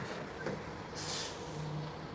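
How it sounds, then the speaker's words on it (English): An aggregate hauler truck carrying soil near a construction site lets out a hiss of its air brakes, a short burst of airy noise over steady low engine rumble heard from a moderate distance. "This is one of those trucks that's moving the soil. Aggregate haulers."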